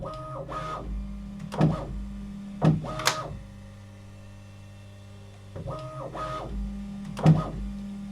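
A Bambu Lab P2S 3D printer runs its calibration routine, giving a steady motor hum broken by several short, sharp whirring and clunking bursts as the axes move, at close range with no talk.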